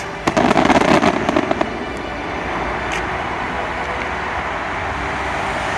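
A rapid volley of crackling firework bursts in the first couple of seconds, then it fades to a steady outdoor rumble with a few faint distant pops.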